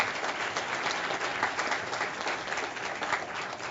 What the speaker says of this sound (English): Please, another round of applause for all of our.